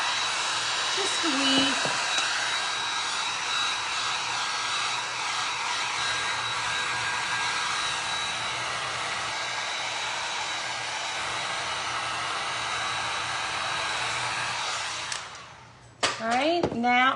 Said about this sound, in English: I'm gonna hit the edge with my heat gun.